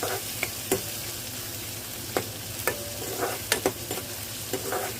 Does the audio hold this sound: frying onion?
yes